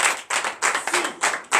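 Congregation clapping in rhythm during a morning prayer service, a quick run of about six sharp, close claps in an even beat.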